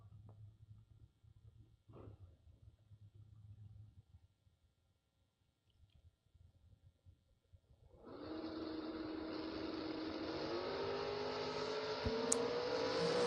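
Drag racing cars, a 1968 Camaro and a 1984 Camaro, launch on the strip, starting after a quiet stretch with faint sounds, then building into a loud, sustained rising engine roar that continues to the end.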